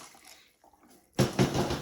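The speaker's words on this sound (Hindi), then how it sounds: "यहाँ पे मैं गर्म पानी डाल दूंगी, तकरीबन 2 गिलास डाल देंगे" Hot water pours into a cooking pot while preparing harissa, starting after a near-silent pause as a close, steady gush and splash that continues to the end.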